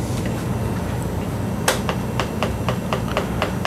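Tightening a bicycle rear brake anchor bolt: a quick series of sharp metallic clicks and taps, about eight in under two seconds, close and clear over a steady background hum.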